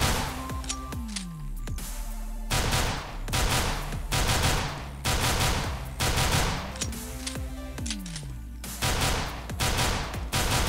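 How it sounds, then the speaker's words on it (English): P250 pistol fire in the game CS:GO, loud, sharp repeated shots in short bursts of two or three, with brief gaps and other game sounds underneath, no talking. "I definitely recommend shooting in 2-3 bullet bursts though, when at full range, because it remains accurate"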